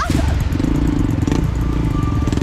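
Motorcycle ridden slowly over deep, slippery mud on a rural dirt track in Papahan, Indonesia, its engine droning steadily and loud throughout, with rattles and clatter from the bike.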